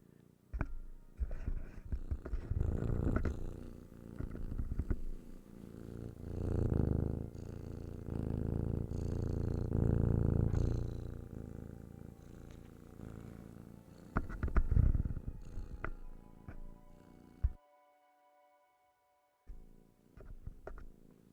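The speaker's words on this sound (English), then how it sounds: "I put my cat on the mic." Cinnamon, a pet cat, purrs right into the microphone, a close, low rumbling purr in steady rhythmic waves that swell and fade, with soft rustling, before a short silent gap near the end.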